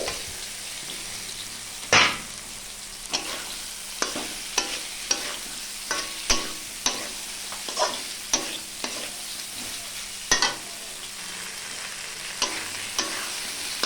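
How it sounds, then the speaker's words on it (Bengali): Fish pieces fry in hot mustard oil with a steady low sizzle, punctuated by a dozen or so sharp clinks and scrapes of a utensil against the pan, and no talking. "এইদিকে আমি গরম সরিষার তেলে মাছের পিস আমি ভেজে নিচ্ছি।"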